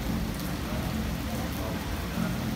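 Steady rain falls across an outdoor market in Bangkok, a dense, continuous hiss of drops on surfaces that fills the whole clip at moderate loudness, with faint voices underneath.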